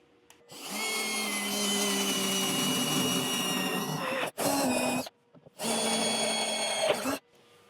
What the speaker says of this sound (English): I'm just running the step bit back through the other side